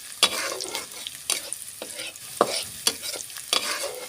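Bottle gourd peel and potatoes fry in a pan while a spatula stirs and scrapes in irregular strokes, sharp metallic clinks over a soft, steady sizzle, close and with no talking.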